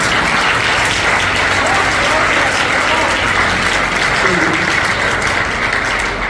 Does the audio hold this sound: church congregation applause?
yes